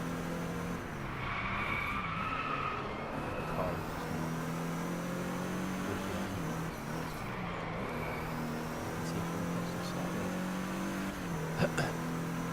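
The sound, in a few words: car racing engine and skidding in video game Driveclub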